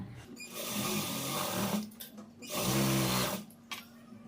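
A sewing machine runs in two steady whirring bursts while stitching a straight half-inch seam on a blouse, with short pauses and fabric handling between runs, no talking.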